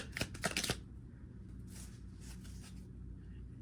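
A quick riffle of tarot cards being shuffled up close, a few crisp bursts at the start, then quieter handling over a low hum.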